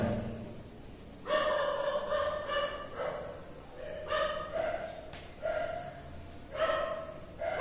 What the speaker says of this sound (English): the outside some dog are barking, so some sound is also coming